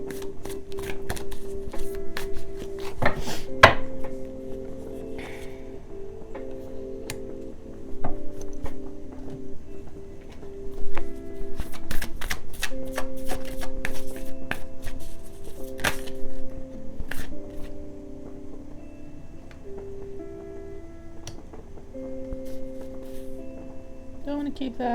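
Tarot cards being shuffled by hand, a steady papery riffling and flicking with sharp taps, continuous throughout, under soft background music.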